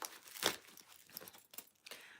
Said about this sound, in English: Let me start shuffling for you.